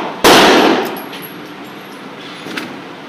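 A handgun round strikes a steel target with one loud, close metallic clang that rings and fades over about a second, followed by a much fainter ping a couple of seconds later.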